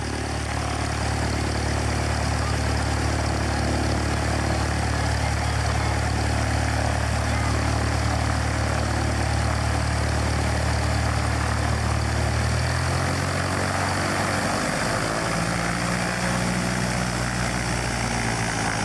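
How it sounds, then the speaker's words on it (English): A steady, loud propeller engine drone fills the whole stretch, its low pitch shifting partway through as if the aircraft changes power. "They loved the wind that the airplane made."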